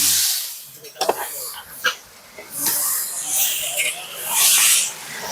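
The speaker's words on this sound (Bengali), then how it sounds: "এবার ম্যারিনেট করে রাখা মাংসটা দিয়ে দিচ্ছি।" Marinated chicken going into hot oil for a village-style chicken kosha, bursts of loud hissing sizzle rising and falling, with a voice speaking over parts of it.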